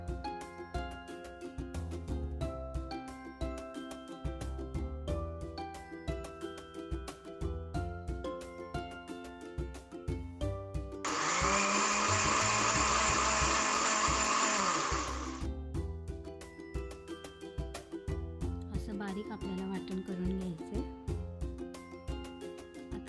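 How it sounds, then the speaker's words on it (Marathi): A kitchen mixer grinder whirs loudly for about four seconds as it grinds cumin, coriander seeds and two tomatoes into a paste for a prawn curry, rising sharply over steady background music and then cutting off. "वाटणामध्ये आता आपण जिरं टाकूया धने आणि दोन टमॅटो हे आपण मिक्सरला लावून घ्यायचं"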